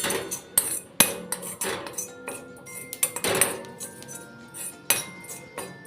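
A spoon scrapes and presses roasting homemade hair-pack powder in a pan, giving sharp, irregular metallic clinks and scratches close by, with no talk.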